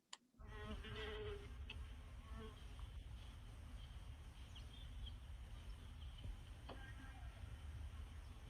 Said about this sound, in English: those mason bees coming and go